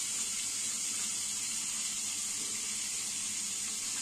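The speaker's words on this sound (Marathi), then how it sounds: "आता ह्याच्यात पाणी ओतूया" Water pours steadily into a metal plate set over a pot of mutton curry, a continuous close rushing splash with an even level throughout and no voices.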